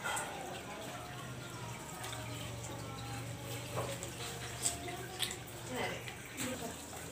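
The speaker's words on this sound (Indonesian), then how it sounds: "Sudah mendidih airnya ya" Water boiling in a pot on the stove for sayur lodeh, with a steady low hum and scattered pops and gurgles that grow livelier toward the end.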